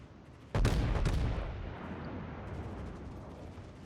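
Naval shell fire in a warship game against the Tirpitz, one sudden heavy boom followed by a second blast and a long rumbling decay, loud and close, with no talk.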